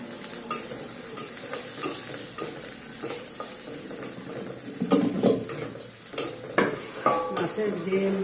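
Chopped onions sizzle in hot oil in a pan while being stirred, with clinks of a utensil against the pan and a few louder scraping bursts toward the end, close and steady.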